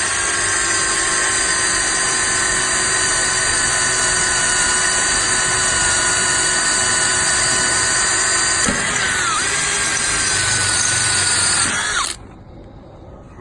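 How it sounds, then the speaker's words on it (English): A power drill whines at a high steady pitch for a long stretch, dips briefly as a 3.5 bit bites into a screw on a commercial aluminium door closer, then cuts off. "we're going to need to drill it out"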